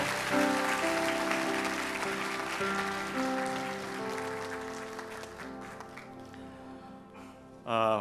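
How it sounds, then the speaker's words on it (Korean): Applause from a Korean church congregation at Irvine Onnuri Church's Sunday worship, offered as a blessing, rising under sustained, sonorous music and fading quietly toward the end. "우리 다시 한번 박수로 축복해 주십시오"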